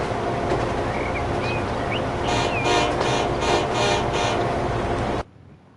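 A train runs in the console edition of the simulation game Transport Fever 2, giving a steady, full rumble with a series of short horn-like toots in the middle before the sound cuts off abruptly.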